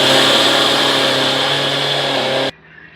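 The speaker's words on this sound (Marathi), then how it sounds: "त्याचं रात्री मिक्सर मध्ये बारीक करून घ्यायचे" Mixer grinder running loud and steady, grinding soaked rice and urad dal into idli batter, with a constant whirring hum that cuts off abruptly near the end.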